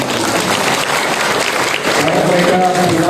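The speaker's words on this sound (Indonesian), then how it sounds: "ya kita beri tepuk tangan dulu supaya" Loud applause from a gathering at a religious community leadership handover ceremony, clapping for novices preparing for their vows, continuous and dense, with a voice emerging faintly near the end.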